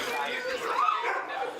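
Excited sled dogs waiting to pull ATVs bark and yip together in a busy, continuous chorus, moderately loud, with people talking amid the noise.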